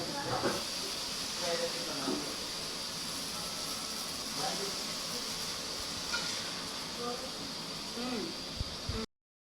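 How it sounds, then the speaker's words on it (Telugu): Mutton fries in oil in a kadai for a mutton pickle, giving a steady, continuous sizzling hiss with occasional pops throughout, with a voice faintly present underneath. "ఇప్పుడు నూనెలో ఫ్రై చేస్తుంది."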